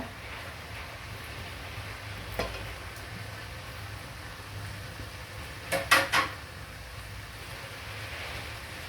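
Shredded cabbage added to vegetables frying in a pan brings a faint steady sizzle, broken by a short cluster of utensil clatters against the pan.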